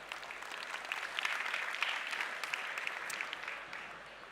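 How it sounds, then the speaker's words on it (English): Conference audience applauding at a live-stage pitch competition, a broad wash of many hands clapping at moderate distance, swelling slightly then holding steady for several seconds without speech. "So please give them a big round of applause."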